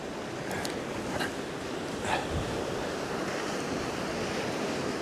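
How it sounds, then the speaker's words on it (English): Strong fresh wind buffets the microphone at Sandbanks Beach, with a constant roar of surf and wind noise throughout and a few faint higher clicks, and no talking. "that wind's fresh, really fresh"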